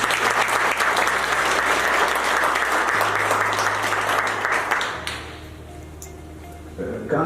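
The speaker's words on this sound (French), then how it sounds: "Applaudissements pour Global." A large audience claps loudly and steadily at a conference launching a cryptocurrency token, the dense applause filling the room for about five seconds before dropping off abruptly into quiet room tone.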